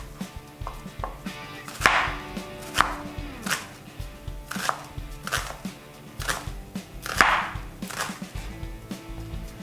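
A knife dices an onion thin on a cutting board while making calzone filling, giving a series of sharp, irregular chopping knocks over close, quiet kitchen background.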